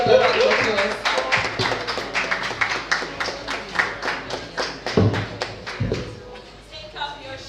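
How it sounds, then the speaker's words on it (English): An audience at a spoken word poetry event in Lagos claps for a barefoot poet, a lively run of hand claps with a few louder thumps and some voices mixed in. "Please give her a round of applause."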